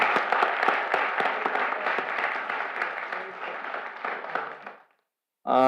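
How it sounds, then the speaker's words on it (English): An audience at a town board regular meeting claps as dense, lively applause that fades out after about five seconds. A voice then begins speaking. "let's give them a round of applause as well."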